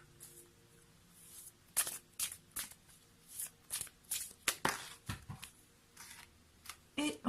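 Tarot cards shuffled during a card reading: a series of crisp riffling, flapping bursts that come in irregular bunches, close and fairly quiet, with no talking over them.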